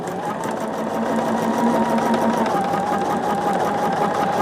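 A sewing machine runs continuously at a steady speed while stitching a row of a quilt, a close, even mechanical whir and rapid needle patter without pause.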